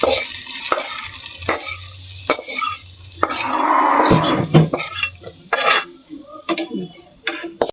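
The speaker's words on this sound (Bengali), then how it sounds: "এখন আমি মুহি ডাইলের মধ্যে বাগারটা দিয়ে দিলাম" Hot oil tempering poured into taro stolon dal with small shrimp sets off a loud close sizzle, broken by repeated metal spoon scrapes and clinks against the pot.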